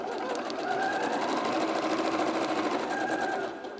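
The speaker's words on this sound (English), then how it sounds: "So, have your rectangle and then sew it together first." A sewing machine runs steadily for a few seconds, stitching a fabric rectangle for a scrunchie, then slows at the end. The whirring and needle clatter are close and moderately loud, with no voices.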